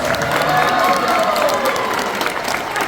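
A banquet audience at a band awards event applauds, a dense wash of clapping that swells near the start and gradually thins out over a few seconds, with faint voices mixed in.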